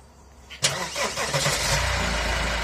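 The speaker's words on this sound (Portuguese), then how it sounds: "Ligou o carro" A Nissan Frontier pickup engine starts with a short starter crank, then catches and settles into a steady close idle rumble.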